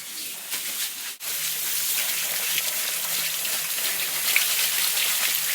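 Four cups of rice and three cups of dal being washed in water, a steady close wash of splashing and sloshing with one brief break near the start.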